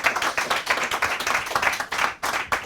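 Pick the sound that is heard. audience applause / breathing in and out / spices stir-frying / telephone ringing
audience applause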